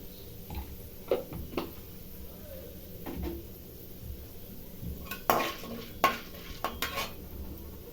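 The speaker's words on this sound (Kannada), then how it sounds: "ಕಡಲೆ ಬೀಜ ಸ್ವಲ್ಪ ಬ್ರೌನ್ ಆಗಬೇಕು ಸ್ವಲ್ಪ ಸಾಸಿವೆ ಹಾಕ್ತಾ ಇದ್ದೀನಿ" Peanuts and mustard seeds in a pan, a quiet low sizzle under intermittent metallic clinks and scrapes of a spoon against the cookware, with sharper knocks toward the end.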